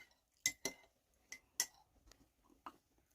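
A spoon stirring a cup of Milo, several sharp clinks against the cup at uneven intervals, close and quiet with silence between strikes.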